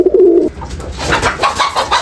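Pigeons on a farm where pigeons and chickens are raised, giving a few soft, low coos over rustling background noise after a brief louder tonal call.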